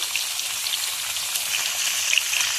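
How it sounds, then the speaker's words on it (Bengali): Potato pieces fry in hot oil with a steady, close crackling sizzle and scattered small pops throughout. "এবার আলুগুলোকে আমি ভেজে নিচ্ছি"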